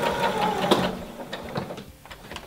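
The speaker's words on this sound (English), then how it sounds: "Put down and then carry on stitching back to the intersection" Sewing machine stitching a lingerie gusset seam: a steady, close mechanical whir with a rapid needle rhythm, running continuously and fairly loud throughout.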